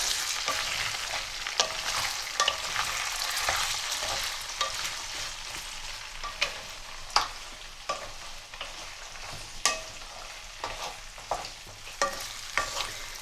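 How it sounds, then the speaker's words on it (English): Potatoes fry in a pan for Punjabi aloo chana while being stirred, a steady close sizzle broken by repeated sharp scraping clicks from the spoon at an uneven rhythm, with no talking. "Keep them moving in the pan so they just don't stick to the bottom."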